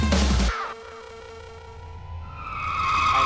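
A Skoda Fabia diesel car is driven hard, with a loud burst of engine and road noise that drops away, then a rising tire squeal builds toward the end as the tires skid.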